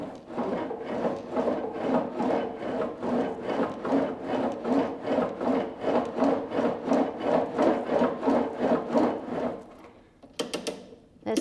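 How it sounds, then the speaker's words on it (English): CLMBR climbing machine handles stroking at resistance level 1, an even, repeating rasping whoosh about twice per second, each pass swelling and fading, close and moderately loud, stopping near the end with a few faint clicks. "So this is level 1 resistance."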